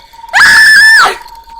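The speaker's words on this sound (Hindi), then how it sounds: "जोर से चिल्लाती है" A girl screams loudly in a horror story, one sustained high shriek of about a second that rises, holds steady and then trails off, close and alone.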